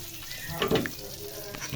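Pangas fish pieces go into leftover hot oil in a pan with soft crackling sizzle, a brief louder burst of spatter and clatter midway, then a quieter steady fry.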